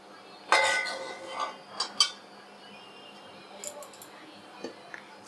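A metal stand is set down into a steel cooking pot of water, giving several sharp clinks and rattles spread over a few seconds, each clear and close against a quiet background.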